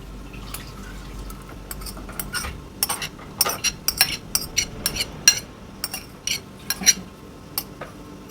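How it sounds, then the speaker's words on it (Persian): A spoon clinks and scrapes against a bowl in a series of quick, uneven strokes, steady and close, with no voices. "همین رو به هم میزنیم تا یکی بشن."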